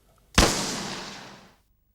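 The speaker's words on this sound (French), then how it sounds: "NBC rajoute pour la diffuser le son d'un coup de feu." A single sharp gunshot effect laid over a war broadcast, a sudden loud crack followed by a long roaring echo that fades out over about a second.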